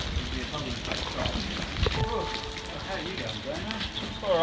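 Steady rain falls in a forest on a mountain climb toward Frenchmans Cap, a continuous soft hiss of drops on foliage, with a voice talking over it.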